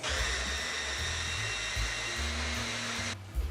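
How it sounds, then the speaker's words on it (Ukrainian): A steady, loud motorized whir of a blender puréeing beetroot runs continuously for about three seconds, then cuts off abruptly. "Перебиваю в блендері до однорідної маси."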